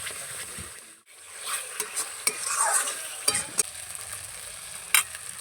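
Spatula stirring masala with whisked sour yogurt for a Bengali katla fish rezala, scraping and clacking against the pan over a soft sizzle, with several sharp knocks along the way and no talk.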